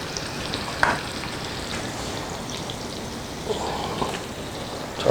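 Onions frying and sizzling in a pan for Beyond Meat enchiladas, a steady crackling hiss throughout with a couple of brief clinks and stirring scrapes.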